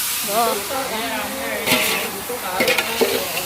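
Salted fish fries in a kerahi during Magh Bihu cooking, giving a steady hissing sizzle with a few stirring scrapes, while someone talks over it.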